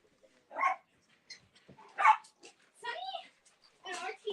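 Dogs bark in a handful of short, separate bursts at moderate distance, with people talking nearby.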